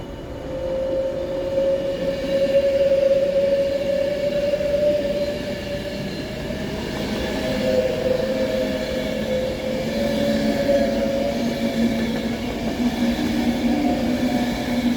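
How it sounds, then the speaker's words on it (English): Avanti Pendolino passenger train passing through Stafford station on the West Coast Main Line under cautionary signals, a sustained rolling rumble with a high steady whine, loud and continuous with no talk. "this is a just a Avanti Pendolino on cautionary signals passing through the mains"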